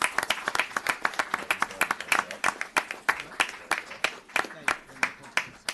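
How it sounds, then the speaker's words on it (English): Audience at a town board meeting claps for a sergeant, a small group's distinct, fairly close handclaps in an uneven rhythm. "let's have a nice round of applause for Sergeant"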